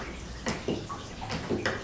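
Water-wheel-driven pestle mill for crushing yerba mate leaves, in the Italian immigrant country of the Serra Gaúcha: steady rushing water with recurring soft splashes and sloshing, nearby and continuous.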